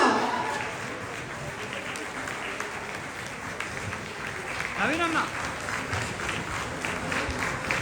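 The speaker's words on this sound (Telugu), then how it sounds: "సో ఒకసారి అందరూ చప్పట్లు గట్టిగా." Crowd applauding at an NTR 100th birthday celebration in Adelaide, a steady wash of clapping running throughout, with voices and a brief whistle-like cheer rising over it midway.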